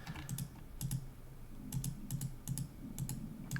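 Computer keyboard keys click in quick bursts of two or three taps, repeating irregularly and close up over a low background hum, with no voices.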